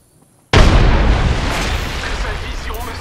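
A grenade explodes in Apex Legends, a sudden loud boom after a brief near-silence that rumbles on and slowly decays.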